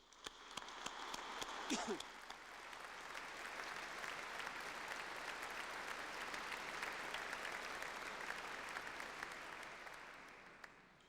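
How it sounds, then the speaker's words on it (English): Steady applause from a large audience at a college awards ceremony, many hands clapping continuously at an even level throughout, with no talking over it. "they deserve a very good round of applause from us all"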